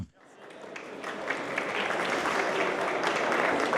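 An audience applauds after a two-person discussion on hybrid infrastructure, performance and sovereignty, steady clapping building from a quiet start and holding moderately loud throughout.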